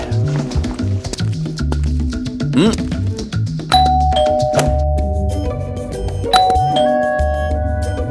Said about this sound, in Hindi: घंटी इतनी जोर से बजाई